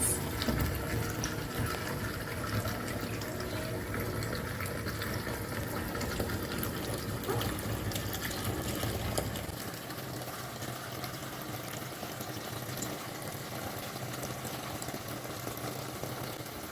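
Steady running tap water as hands are washed at a sink, a continuous moderate splashing hiss that shifts slightly in tone partway through as the flow under the hands changes.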